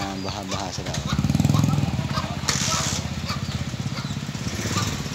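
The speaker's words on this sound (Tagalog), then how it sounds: "Ayan yung motor. Ayan, baha-baha sila." A motorcycle engine runs steadily while riding through flood water after light rain, its rough mid-range drone continuous and fairly close, with people talking over it.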